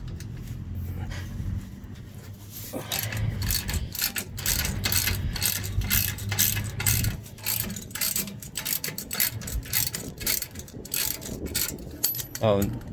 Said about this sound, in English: Once you get it loose with the breaker bar, you can put a normal wrench on there.